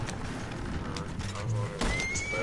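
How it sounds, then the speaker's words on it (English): A horse in the Red Dead Online video game whinnies and its hooves pound at a gallop, short and fairly close, with a voice talking over parts of it. "My horse is running out of stamina."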